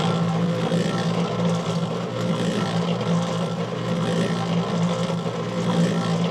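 A mixing machine churns a landscape bedding mix for Belgian block edging, giving a continuous, fairly loud motor drone with a steady low hum and a rumbling, slightly uneven churn, with no talk over it.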